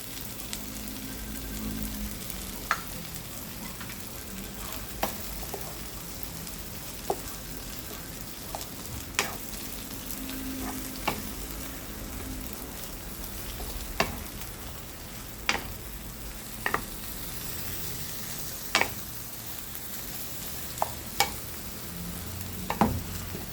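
Egg frying in a pan with corned beef, green pepper and potato, a steady soft sizzle with scattered sharp ticks and scrapes of stirring throughout, moderately close, no talking.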